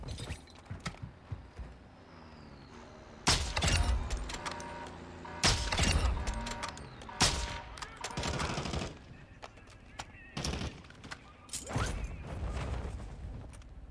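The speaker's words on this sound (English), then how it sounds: "he just aimed at me and started firing" A bot fires at the player in a first-person shooter game: several loud bursts of automatic gunfire come in separated clusters, with quieter clicks and mechanical handling sounds between them.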